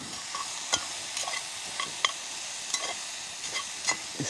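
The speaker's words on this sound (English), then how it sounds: "That mushroom sizzling away." Mushrooms sizzle in a pan hung from a tripod over an open campfire in wilderness bush camp, a steady frying hiss with small crackles and pops scattered throughout.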